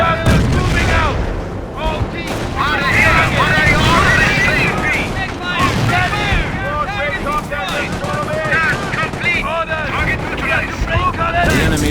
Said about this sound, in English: We are coming under fire! Artillery!